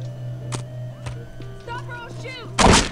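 A loud gunshot in Postal 2 blasts near the end, after some clicks, knocks and a steady hum, with a voice speaking just before it.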